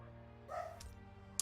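In a mobile war strategy game, a single short dog bark sounds faintly, set against a quiet background hum with a few soft ticks.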